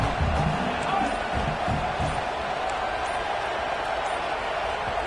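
Dense, steady roar of a football stadium crowd during a tense fourth-down play, a loud continuous wash of noise with no breaks, filling the whole stretch.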